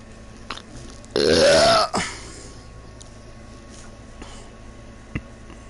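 A single loud, close burp lasting under a second, caught on an open microphone during a Stellaris game session, set against a quiet background with a few faint clicks.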